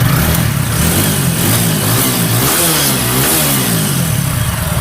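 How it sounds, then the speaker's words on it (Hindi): A TVS Apache RTR 200 4V motorcycle engine, freshly rebuilt, runs loud and close, its steady idle rising and falling through gentle revs with an even, smooth drone throughout. "इसके अंदर जो इंजन का साउंड है बिल्कुल स्मूथ साउंड है"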